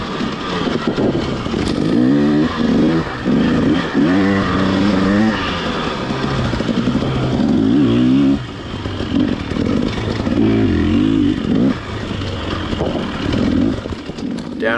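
A dirt bike engine labors and revs on a steep, rocky technical descent, loud and close with fluctuating throttle, clattering over ledges throughout.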